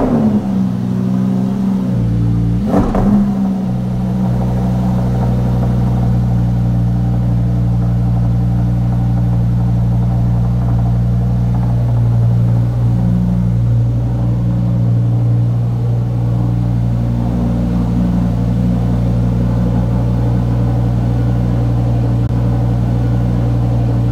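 A Lamborghini engine runs loud and steady after starting, a deep continuous drone with a brief surge near the start and no talking.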